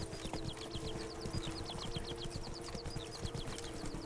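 A horse's hooves clip-clop steadily in The Witcher 3, a continuous, brisk rhythmic trot at moderate distance over a low ambient hum, with no talking.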